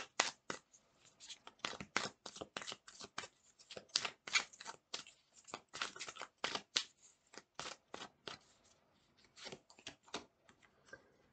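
Tarot cards are shuffled close by in quick, irregular riffles and slaps that run steadily for about eleven seconds, soft and crisp with no talk.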